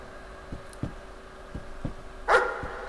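A dog in the horror game Layers of Fear barks in a series of sharp, moderately near yips at a quick rhythm, ending with a louder, longer bark.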